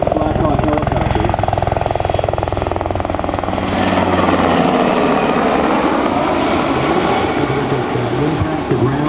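A UH-60L Black Hawk helicopter's rotor drone and engine whine run steadily throughout at an air show demonstration, loud and close, with a voice talking over it.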